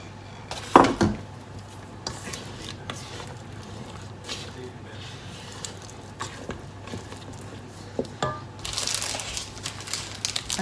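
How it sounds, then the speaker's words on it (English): Mini eggs are stirred into thick blondie batter in a bowl, giving scattered crunchy scrapes and clinks of the utensil against the bowl, loudest near the start and picking up again at the end. "Mini eggs going in."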